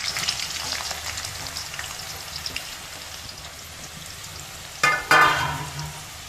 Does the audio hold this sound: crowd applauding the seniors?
no